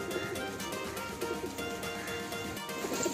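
Male racing pigeons kept for a flying tournament coo softly in a loft, low throaty calls repeating under a dense, steady background of rustling and ambient noise.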